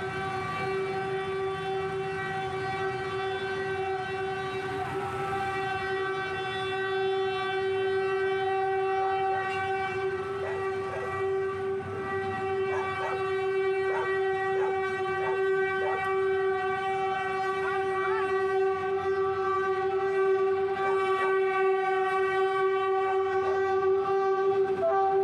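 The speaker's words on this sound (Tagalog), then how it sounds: "Dadaan pa yung train." A train passing close by with a long, steady horn blast and rhythmic clatter of wheels on the rails in Manila.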